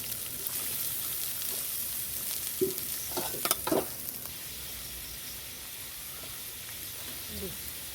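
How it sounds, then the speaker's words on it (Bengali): Chopped onions drop into hot oil in a kadai and fry with a soft, steady sizzle, broken by a few brief clattering stirs near the middle; the hiss stays low and close. "আমার কড়ার তেলটা গরম হয়ে গেছে, আমি পেঁয়াজ কটা দিয়ে দিলাম।"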